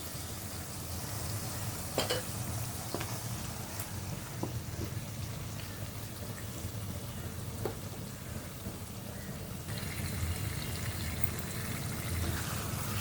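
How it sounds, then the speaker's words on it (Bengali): Marinated fish curry is stirred in a pan with a steady, quiet sizzle and soft bubbling, punctuated by a few faint utensil clicks and scrapes throughout. "এভাবে আমি এভাবে ভালো করে নাড়াচাড়া করে নিব"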